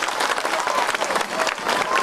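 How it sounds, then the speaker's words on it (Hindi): Crowd at a political election rally in Sultanpur applauding, a dense burst of many hands clapping with some voices mixed in, loud and continuous throughout. "एक बार जोरदार ताली बजा करके"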